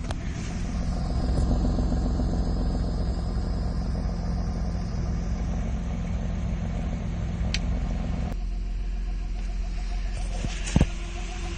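A Nissan Skyline with a faulty exhaust manifold and snapped studs idles close by, a steady low rumbling drone with an uneven mechanical chatter running throughout, a brief sharp knock near the end.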